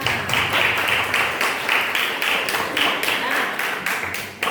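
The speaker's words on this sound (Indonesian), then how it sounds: "tepuk tangan untuk Ilham dulu" Applause for Ilham at a classroom or school gathering, heard as a run of quick, fairly close bursts of clapping that rise and fall in short waves.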